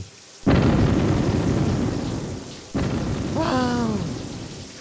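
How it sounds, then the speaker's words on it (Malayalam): Cartoon thunderstorm: a loud crack of thunder opens steady heavy rain, a second thunderclap follows, and a brief voiced, wavering call rises over the downpour near the end. "വാ നല്ല മഴ"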